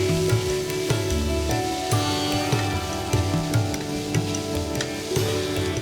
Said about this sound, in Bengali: এইবার চিংড়ি মাছ সেদ্ধ হওয়া অবধি রান্নাটি কষান।